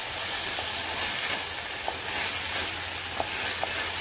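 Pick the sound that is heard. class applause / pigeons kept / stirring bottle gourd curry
stirring bottle gourd curry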